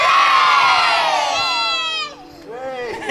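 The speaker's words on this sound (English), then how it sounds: "I'm now going to ask the children to say hello to you" A large group of schoolchildren shouts a greeting together in one loud, sustained burst that trails off, followed by a few scattered voices; close and crowd-like.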